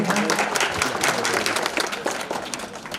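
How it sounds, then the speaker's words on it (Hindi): An audience applauds to welcome a guest at a village school event in Sarothiya, with continuous clapping that gradually thins out toward the end. "तालियों के साथ जोरदार स्वागत किया जाए"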